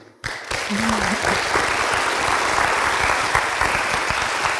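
An audience breaks into steady, sustained applause after a brief spoken introduction, the dense clapping of a full room holding at an even level to the end.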